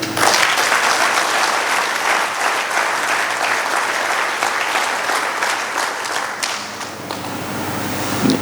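Sustained applause from a large audience, dense and steady for several seconds, with bright crackling claps filling the space.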